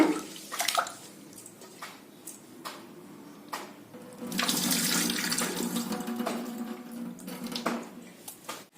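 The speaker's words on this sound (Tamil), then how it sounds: "இந்த கம்பை நல்லா ரெண்டு தடவை கழுவிடலாங்க" Pearl millet is rubbed and rinsed in water under a running tap, with splashing, sloshing and squishing grain in a bowl, close and fairly loud, with no voices.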